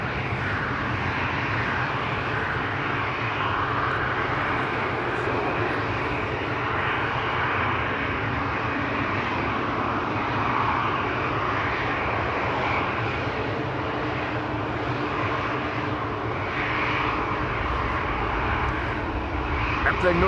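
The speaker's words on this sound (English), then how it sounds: "Airplane noise a bit loud." Aircraft engines rumble steadily at Amsterdam Schiphol Airport, a broad, continuous roar from planes taxiing and departing, moderately distant and without pause.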